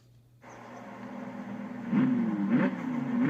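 A car engine in Forza Horizon 4 starts up and revs, its pitch rising and falling in a few surges as it grows louder, no voices present.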